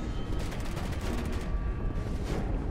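Tank cannon fire in the war game Foxhole, a dense run of repeated gunshots and blasts with no talking, loud and continuous over a rumbling low battle din.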